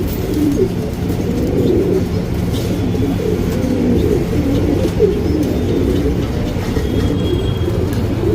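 Pigeons, a Karebuuri male and a Surmi female, coo softly in a low repeating rhythm against a continuous rumbling background, with no one speaking.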